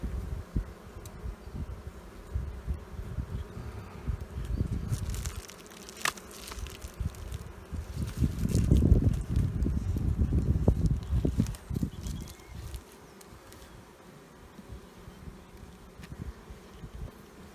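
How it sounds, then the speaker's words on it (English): Honey bees buzz densely around an opened hive box, in a steady close drone that swells louder in the middle and then settles back. "Plenty of bees."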